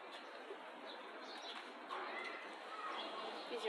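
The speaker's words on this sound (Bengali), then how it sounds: "আমার ছেলের কবুতর" Pet pigeons coo softly in a home loft, a faint, low murmur over steady background hiss, with a person talking nearby.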